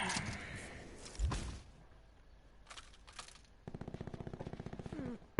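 Rapid automatic gunfire in Call of Duty Black Ops 4, a loud burst near the start, then a quieter stretch and a steady rattling volley of evenly spaced shots toward the end, with no talk over it.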